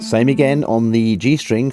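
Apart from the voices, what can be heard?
No everyday noises stand out.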